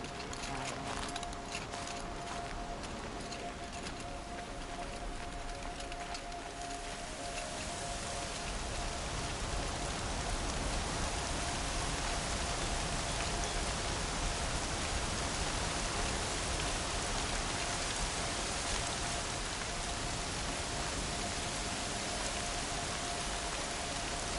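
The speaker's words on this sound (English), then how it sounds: "Raining like it's trying to wash everything away." Steady rain pours in the video game Horizon Zero Dawn, a dense, even hiss that holds loud and constant throughout with no break.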